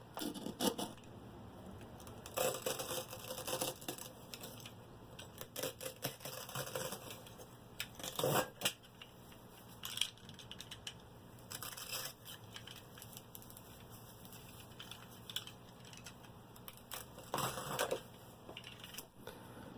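Aquarium filter material being cut to shape, quiet intermittent snipping and crunchy scraping bursts spread over about twenty seconds, close and faint.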